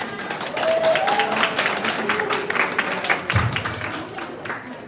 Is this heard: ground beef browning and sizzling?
no